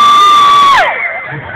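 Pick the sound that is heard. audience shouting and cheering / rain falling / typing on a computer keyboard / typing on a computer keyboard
audience shouting and cheering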